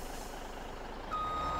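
A truck in Farming Simulator 17 sounds steady reversing beeps over a constant low engine drone, with a brief air-brake hiss near the end.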